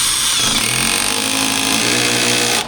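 A Milwaukee subcompact impact driver drives a screw with a Ryobi bit, a loud, close, continuous rattling hammer-buzz lasting a few seconds before cutting off, with no talk over it.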